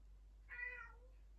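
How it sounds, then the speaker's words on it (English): A pet cat gives a single drawn-out meow, faint and somewhat distant in the background, lasting under a second against a quiet room. "The sound in the background is my cat, Teddy."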